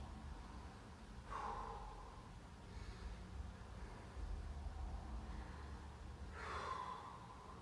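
Two slow, breathy exhalations a few seconds apart during a deep forward fold stretch in a short workout, faint and close, with a low steady background hum between them.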